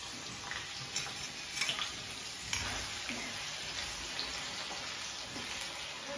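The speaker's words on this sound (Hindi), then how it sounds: "और दोस्तों अब मैं डाल रही हूँ आलू।" Potatoes frying in a pan: a soft, steady sizzle with a few light clatters and pops, fairly quiet and without voices.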